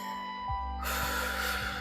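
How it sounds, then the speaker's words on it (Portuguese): During a calm guided meditation, someone takes one deep, audible inhalation, a close breathy rush of air that starts partway through and continues steadily to the end. "Toma uma respiração profunda."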